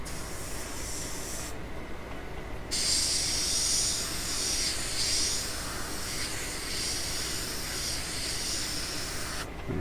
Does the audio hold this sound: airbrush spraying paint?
yes